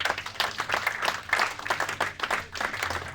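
A congregation claps and cheers together in a lively, uneven burst of applause, loud and close, with voices mixed in among the many hands.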